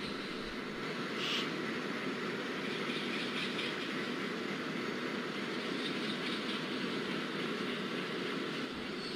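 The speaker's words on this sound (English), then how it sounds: "The freight train is leading by WDG-3A Jhansi Shed locomotive, which is approaching Chanderia station slowly." A freight train led by a WDG-3A diesel locomotive of Jhansi Shed rolls slowly into Chanderia station, a continuous low rumble heard from a moving passenger train, steady and moderately distant.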